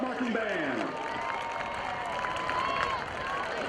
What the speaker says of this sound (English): How about a big round of applause for your new Manchester High School Red Coat Marching Band.